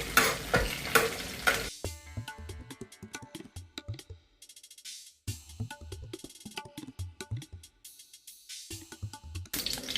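Two or three bay leaves sizzle in hot oil and butter at the start of a paneer tikka masala, with a loud early burst of frying, then quieter crackles and stirring clinks that come and go.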